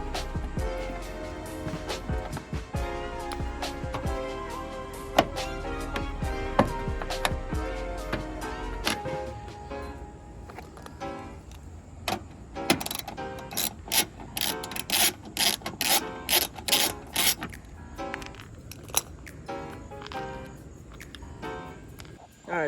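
A 10 mm bolt and a Phillips screw are worked out of a Toyota Chaser headlight assembly, giving close, repeated ratcheting clicks and rubbing tool scrapes at a fairly quiet level.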